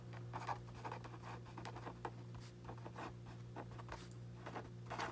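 A pen or pencil scratches quickly across paper while a physics answer is written out, with continuous soft scribbling strokes close up over a steady low hum, no speech.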